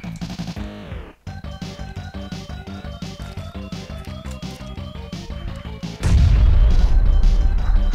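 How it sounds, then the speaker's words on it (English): A grenade explodes in the battle royale game PUBG, a sudden loud booming crash that fills the last couple of seconds after steady rhythmic game music. "I threw a grenade into the smoke and got somebody"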